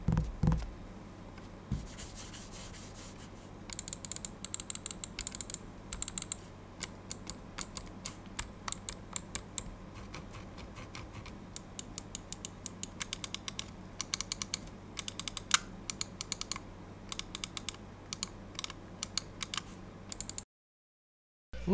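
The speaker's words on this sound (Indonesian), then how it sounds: "Untuk kalian yang penasaran mouse click-nya seperti apa suaranya, ayo kita lakukan quick sound test." Budget wireless gaming mouse clicked and scrolled in a sound test: crisp, close clicks and rapid clusters of ticking, some sparse and some in fast bursts, over a quiet background hum, ending in brief silence.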